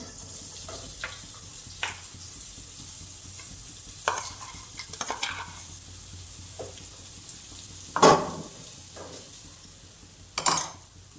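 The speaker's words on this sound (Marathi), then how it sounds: "आता हे परतून घेणार आहोत आपण" Ground masala being sautéed in a hot kadhai for pea-potato paratha filling: a low, steady sizzle close by, with a spatula scraping and clinking against the metal pan at irregular intervals.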